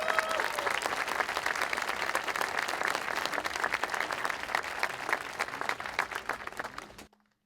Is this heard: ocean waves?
no